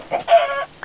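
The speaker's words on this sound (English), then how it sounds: "I'll kill these little chickens" A Minecraft chicken gives a couple of short, close clucks in quick succession, sharp and clear with nothing else around.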